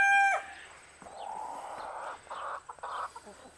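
Barred Rock chickens cluck and a rooster crows nearby, a drawn-out crow followed by several short bursts of hen calls, fairly close with no talking over it.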